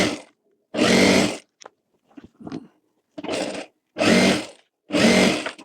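A sewing machine stitches fabric for a baby jumpsuit in four loud, close bursts of rapid whirring, separated by short pauses that carry faint handling taps.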